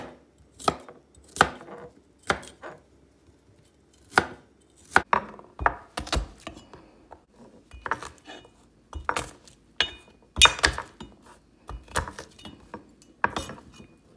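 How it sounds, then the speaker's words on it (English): A knife chops beef and broccoli on a cutting board with about twenty sharp, close knocks. The knocks come in quick irregular bursts with brief pauses between them, and no one speaks. "Chop it."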